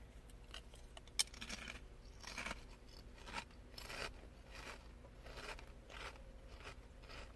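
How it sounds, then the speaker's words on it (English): Loud, close crunching as Munchos corn chips are bitten and chewed, with a run of brittle, crackly bursts and no talking. "Can you hear that crunch?"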